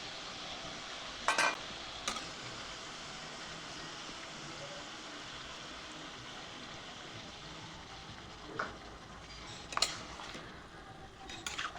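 Chicken cooking in a pot on a clay stove on a rooftop gives a steady low sizzle with scattered sharp clinks of a utensil stirring against the pot, near and moderately quiet, with no one talking.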